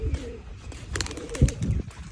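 A pigeon coos faintly nearby, a few soft low calls amid quiet background noise and a brief thump.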